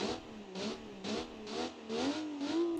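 A turbocharged inline six-cylinder engine in BeamNG revs repeatedly in short bursts, rising and falling in pitch, sounding synthetic and close with no talking.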